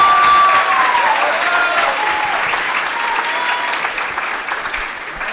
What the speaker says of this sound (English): So another round of applause for the Hood.